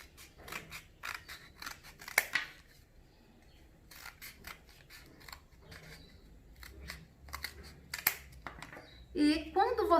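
Scissors snip repeatedly, cutting measured 3-centimetre strips for a classroom resource game, with quick crisp cuts in short clusters while someone talks between them.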